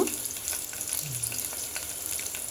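Ginger and garlic frying in a pan of oil for a gongura biryani, giving a steady close sizzle with faint crackles throughout and no voices.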